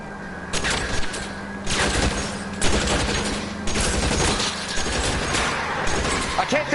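Rapid bursts of gunfire from the video game L.A. Noire crackle in repeated volleys with crashing impacts, loud and close, with a voice speaking over parts of the exchange.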